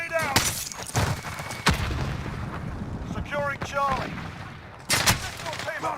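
Grenade blasts and gunfire in a shooter video game: sharp, loud explosive bursts at the start, middle and near the end, with rattling shots, chirping electronic effects and faint voices in between.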